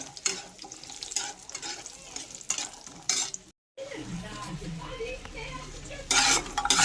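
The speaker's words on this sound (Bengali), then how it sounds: "এবারে আমি তেলের মধ্যে দিয়ে দেব বড়ি। বড়িগুলো লাল লাল করে ভেজে নেব।" Oil sizzles steadily in a pan as lentil dumplings (bori) fry, with occasional stirring and clinks of a utensil, a brief silent gap midway, then louder crackling.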